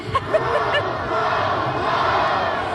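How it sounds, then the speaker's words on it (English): Outdoor crowd at Light Up Louisville cheering and chattering in a dense wash, with a few sharp shouts near the start. "They're giving him the cheer."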